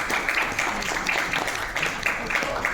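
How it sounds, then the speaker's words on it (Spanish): An audience at a fiscal debate event applauds, steady mid-level clapping with light rhythmic peaks continuing for a few seconds. "Un aplauso."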